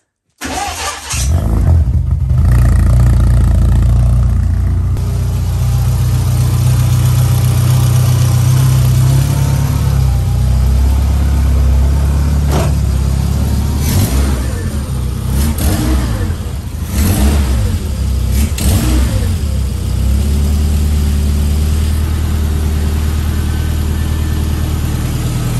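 A restored car engine cranks and catches, then runs loud and close with a deep rumbling idle, rising in several revs before settling back to a steady idle.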